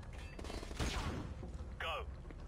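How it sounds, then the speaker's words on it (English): A flashbang grenade detonates in Modern Warfare Remastered, a brief loud burst with a ringing tail, among game gunfire and mechanical noise while voices talk. "Flashbang out."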